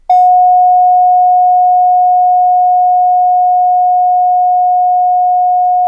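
A single steady Morse code CW tone, fed through an audio input for sending Morse over the internet on Ubuntu 12.04 with PulseAudio, holds loud and unbroken for about six seconds after a sharp onset.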